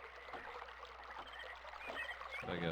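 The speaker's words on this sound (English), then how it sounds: "And now we can hear water flowing through the pipe." Water flowing through a pipe from a pump in the video game Myst gurgles and trickles quietly and steadily, a faint watery wash with no voices present.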